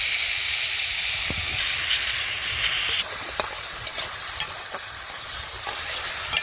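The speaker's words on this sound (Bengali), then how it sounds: "এখানে আলু ভাজা করার জন্য তেল দিয়ে দিচ্ছি" Oil heats in a pan for frying potatoes, a continuous hissing sizzle close by, broken now and then by sharp little pops and clinks, with no talking.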